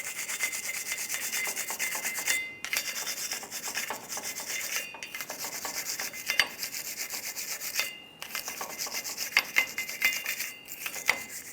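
Rust is scrubbed from the flat wheel hub mounting face of a 2003-2009 Dodge Ram 2500 during a front brake job, giving steady, close abrasive rubbing in long strokes with a few short pauses, no talking.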